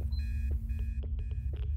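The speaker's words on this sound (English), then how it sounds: "And here goes the alarms." Electronic alarms in the Obsideo ghost-hunting video game beep in rapid repeating pulses over a low steady hum, loud and close.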